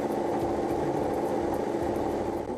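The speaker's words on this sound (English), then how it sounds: "This is what gives the Yamaha M1 and street bike R1 its unique sound" Yamaha M1 MotoGP crossplane engine with an irregular firing pattern, a steady loud idle-like rumble that holds level throughout with no talk.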